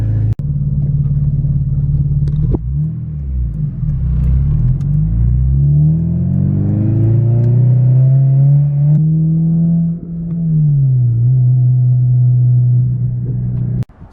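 A Honda Civic Si roars loudly just after a cold start, a close, steady deep rumble that swells as the revs climb, holds, then settles back to a high idle.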